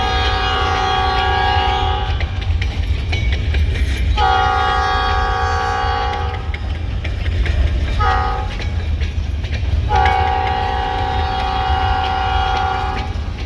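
A freight train rolls past on the rails, a continuous loud rumble and clatter with several long horn blasts sounding in repeated bursts, with no talking.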